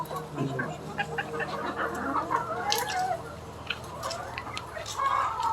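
Hens on a poultry farm: repeated nearby clucks and squawks over a steady low background hum, with occasional sharper calls from the flock.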